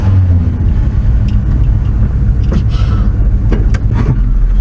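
A Chevy pickup truck with a hot-rod motor rumbles along the road, a loud, steady low engine drone with a few faint speech-like sounds over it.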